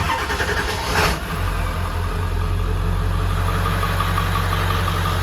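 A stock 7.3 Power Stroke diesel truck engine with a Sinister intake fitted starts with a brief crank burst, then settles into a loud, steady, rumbling idle close by.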